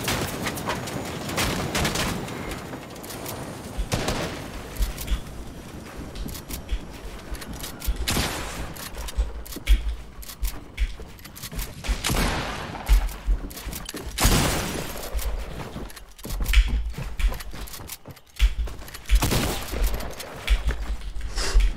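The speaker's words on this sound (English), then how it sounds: "Bro, you're bloody shooting me" Fortnite battle royale gunfire, repeated bursts of shots and impacts rattling throughout over busy game sound, loud and near, with brief lulls between volleys.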